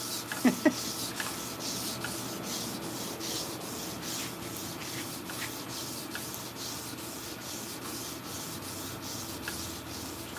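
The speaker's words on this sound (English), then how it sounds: "To be exact, I'm polishing a sword." A bolo knife sword blade is sanded and polished by hand in steady, rhythmic back-and-forth strokes, with a soft continuous rasp and a couple of sharp clicks near the start.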